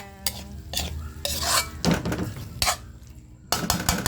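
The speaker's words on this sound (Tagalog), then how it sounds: "Okay, haluin po natin." A spoon scrapes and stirs through sizzling meat in a pot, with clattering metal knocks and a steady frying hiss underneath.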